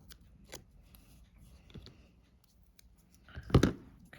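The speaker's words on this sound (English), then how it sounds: "I'm going to go right up to the top, and I'm going to cut it off." Scissors cut paper for a Valentine shaker truck card, a few faint scattered snips followed by one louder, closer crunching cut near the end.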